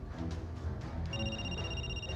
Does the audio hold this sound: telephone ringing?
yes